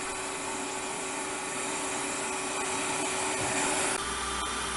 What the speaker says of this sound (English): Now I'm going to vacuum this out.